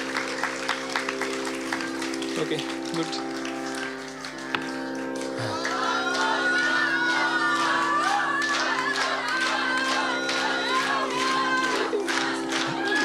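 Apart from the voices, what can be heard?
audience applause and cheering at a live music festival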